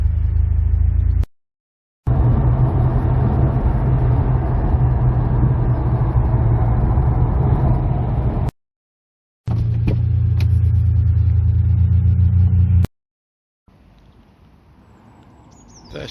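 A 1999 Ferrari 550 Maranello's 5.5-litre V12 idles with a deep, steady rumble close by, cut off abruptly a few times before resuming.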